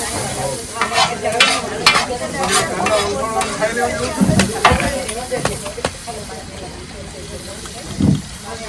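Oil sizzles steadily in a pan while kulcha fries, with scraping stirs and a few clinks, and people talk over it.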